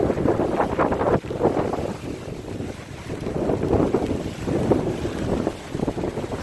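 Gusty wind from Hurricane Irma sweeps a high-tide shoreline in Hudson, Florida, buffeting the microphone in loud surging bursts with a rushing roar that rises and falls.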